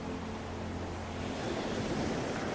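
Ocean waves wash in a steady, continuous surf roar with a low rumble, moderately loud and unbroken, with no voices.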